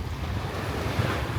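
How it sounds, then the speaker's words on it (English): Steady wind roars and buffets the microphone in a continuous low rush on the southern coast of Anguilla, with surf-like noise underneath and no voices. "most of the days it's windy here"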